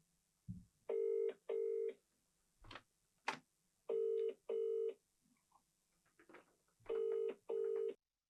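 A telephone on an outgoing cold call: the ringback tone sounds in paired bursts three times, steady and clear, with a few short clicks and thumps between the rings and no talking.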